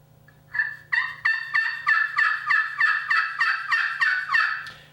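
Turkey yelps from a handmade friction pot call with a wood pot and glass surface: about a dozen evenly spaced, raspy hen notes in a steady rhythm, close and clear with no talk.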